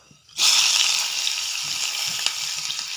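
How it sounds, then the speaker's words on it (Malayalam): Mustard seeds, fenugreek, onion, dried chilli and garlic burst into loud, steady frying in hot oil, a dense sizzle starting abruptly and continuing close up with faint stirring. "കടുക് പൊട്ടി അതിലേക്ക് ഇതാ ഉലുവ ഇടുന്നു"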